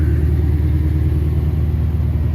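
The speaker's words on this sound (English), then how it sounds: "That thing's idling like a little bit loud." A Lexus RC F engine idling loudly early in the morning, a steady deep rumbling drone held close and constant with no revving.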